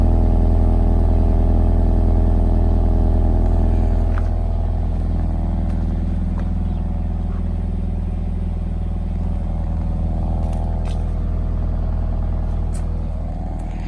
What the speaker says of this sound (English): let me just put you behind the car so you can hear it while it's on